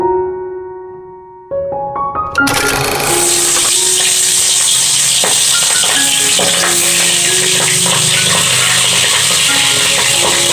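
Curry sizzles loudly in a kadai after a brief tonal ringing at the start, with steady frying hiss and intermittent scraping and clinks of stirring throughout, no talking.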